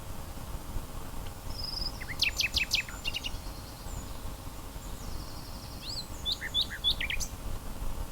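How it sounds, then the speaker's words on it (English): Small birds chirp and trill in short, quick phrases outdoors on a greenway, moderately distant, over a low steady background hum. "Hear the birds singing."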